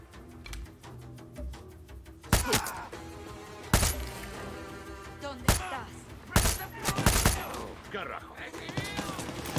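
Several loud gunshots crack out at irregular intervals, some in quick bursts, over a busy background of ambience in the video game Far Cry 6.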